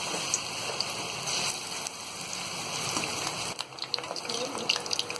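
Vegetable pakoras frying in hot oil in a kadhai give a continuous, close, crackling sizzle with small pops scattered through it.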